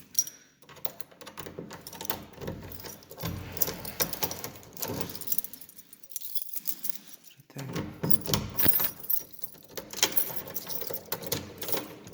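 A set of keys jangles and clinks in a cellar, a rapid, uneven metallic rattling that comes in bursts with short pauses, close and fairly quiet, with no talk.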